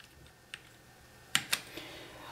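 Keys on a Womier K66 mechanical gaming keyboard with Gateron switches are pressed: a light tap, then a pause, then two sharp clacks close together and a softer final click, all close and clear against a quiet room.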